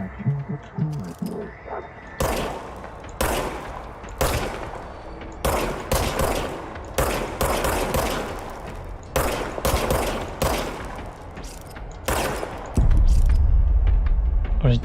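Repeated bursts of gunfire from the player's weapon in the video game Control, with loud, sharp shots in quick clusters separated by brief pauses, ending in a low rumble.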